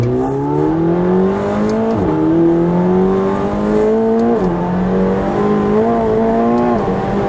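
A white 2018 McLaren 720S sports car accelerates hard from inside the cabin, its engine note climbing steadily through repeated upshifts with brief drops between gears, loud and continuous.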